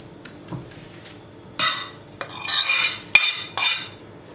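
A spoon scrapes and presses ground meat filling into halved eggplants in a cooking pot for karnıyarık, with a few sharp, close metal-on-pot scrapes and clinks in separate bursts over a quiet background.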